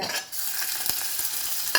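Oil sizzles and crackles steadily around ginger in a steel pan, a bright hissing texture with a few sharper pops and one brief louder spatter near the end.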